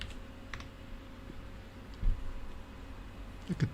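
Keys on a keyboard with ceramic keycaps, used at an SGI workstation setup, give a few sparse, faint clicks and taps over low room noise, with a slightly louder cluster near the end.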